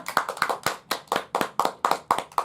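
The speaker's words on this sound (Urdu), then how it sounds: "سب ایک دوسرے کے لیے تالیاں بجا دو" Children clap for each other in a steady rhythm, about nine or ten sharp claps spaced evenly, close and clear, with no talking.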